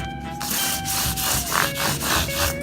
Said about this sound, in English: That's the sanding and polishing of the frets